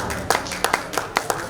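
A few people clap at an awards night, with a handful of sharp, evenly spaced claps close to the microphone rather than full applause.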